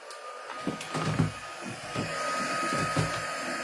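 A dryer blows steadily over an art journal page, a continuous whirring hiss with a faint whine and a few soft knocks throughout.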